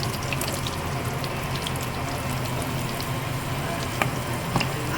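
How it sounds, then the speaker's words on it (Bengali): Whole cinnamon, cloves and two bay leaves stirred in a little hot oil for a chicken dish, giving a steady close sizzle with faint scraping and a couple of light clinks, no voices. "হালকা তেলের সাথে নাড়াচাড়া করে নেব।"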